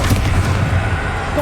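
Fire blast from the Confringo spell in the video game Hogwarts Legacy: one loud, deep, sustained boom with a heavy rumbling low end that stays steady throughout.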